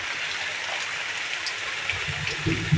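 Rain falling outdoors beside a wood-fire stove, a steady soft wash of water with scattered drops and a few low knocks near the end, no voices.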